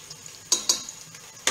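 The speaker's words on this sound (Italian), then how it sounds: "Ecco qua, il soffritto va" Garlic, chili and anchovy soffritto in a pan, heard as a quiet steady sizzle broken by a few sharp clinks of a utensil stirring against the pan, close up and without talk.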